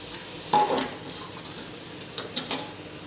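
A spoon stirs mutton with onions in a cooking pot: one sharp metallic scrape and clank, then a pause and two or three quieter knocks over a low kitchen hiss.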